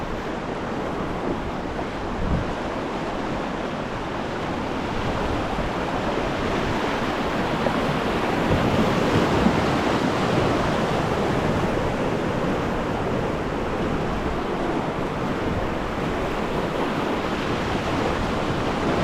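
Whitewater rapids and a waterfall on the Truckee River roar as a steady, dense wash of rushing water, continuous and loud throughout with wind buffeting the microphone.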